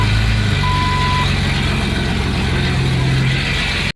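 A loud, steady car engine rumble with a raw, unmuffled exhaust drone, the exhaust cut off at the manifold flange, running continuously until it cuts off abruptly at the end.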